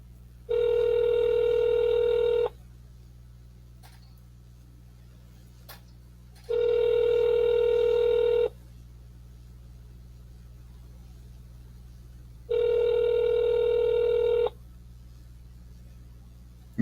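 A phone call rings out unanswered: three steady electronic ring tones, each about two seconds long, repeat at even intervals over a low constant hum, with no voices.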